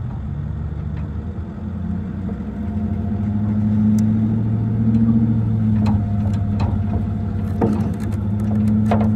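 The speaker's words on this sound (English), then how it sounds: "Now we're gonna pull him with the truck." Flatbed tow truck engine pulling a stuck vehicle out of wet land, a steady mid-pitched idle rising to a stronger drone, with scattered clanks and clicks toward the end.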